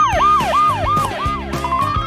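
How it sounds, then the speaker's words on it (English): A toy fire truck's siren wails in a repeating up-and-down pattern, close and loud, with several quick cycles before it settles into a steadier tone. "And a fire truck."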